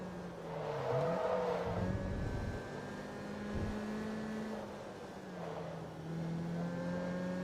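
A car engine in a Forza racing game revs and holds a steady droning pitch, rising and dipping with shifts and throttle, heard close and fairly quiet with no talking.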